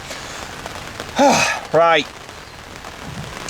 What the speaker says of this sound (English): it is raining very heavy at the minute, as you can probably hear